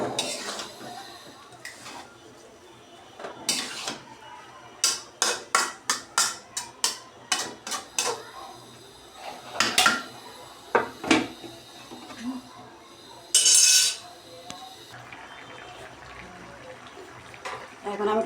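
Water lily stems and prawns are stirred in a metal cooking pot: scattered clinks and scrapes, a quick run of sharp utensil taps in the middle, and a brief louder splashy rush near the end, with a quiet voice in places.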